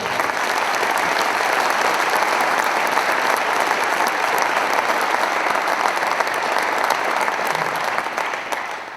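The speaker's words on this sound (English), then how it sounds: "Big round of applause, warm welcome." A large audience applauds steadily for several seconds at a motorsport team season launch event, a dense, even wash of clapping that holds loud throughout before easing slightly at the end.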